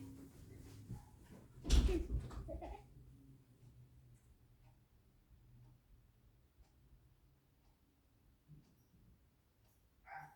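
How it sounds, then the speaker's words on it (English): Dogs barking inside a house, a burst of loud barks near the start then quieter scattered sounds, with faint talk in the background. "My dogs are barking."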